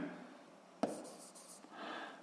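A physics formula being written out during a lesson: a brief, close scratch of writing with a sharp tap at the start, faint and alone without speech.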